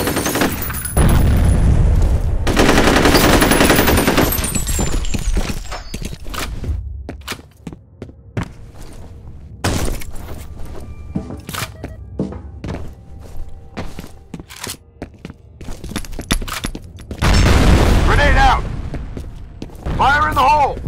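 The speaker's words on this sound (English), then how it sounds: "Grenade out! Fire in the hole!" In F.E.A.R. combat multiplayer, grenades burst in loud booming blasts at the start and near the end, while sharp gunshots, thuds and footsteps scatter between them.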